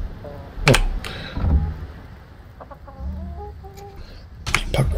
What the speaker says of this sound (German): Das ist natürlich witzig mit den Hühnern hier